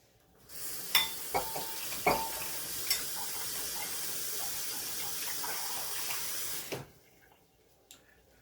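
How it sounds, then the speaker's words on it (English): Water pours steadily into a pot of Jamaican chicken soup for about six seconds, with a few sharp clinks of metal at the start and a quiet sizzle afterward. "Let's put a little more water in it."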